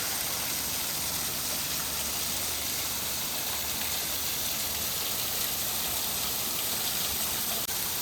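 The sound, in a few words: waterfall on the Lowell riverfront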